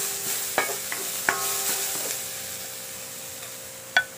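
Garlic sizzles in a pan with ginger, the soft, steady frying hiss broken by a few sharp clinks of a utensil stirring against the pan.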